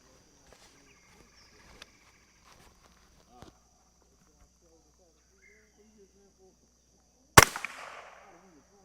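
A Savage Model 42 combination gun fires a .22 Long Rifle round at an outdoor range: one sharp, loud crack near the end with a brief echoing tail, after several seconds of quiet ambience with faint scattered clicks.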